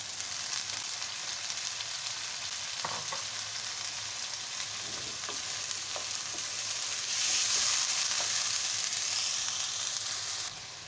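Chicken frying in a pan for chicken karela gives a steady close sizzle and crackle that swells louder partway through, with a few stirring scrapes and no talking.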